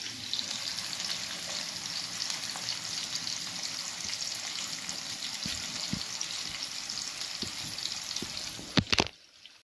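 Bangda and katla fish pieces fry in a pan with a steady, close sizzle and crackle of hot oil throughout, with a few soft clinks near the end.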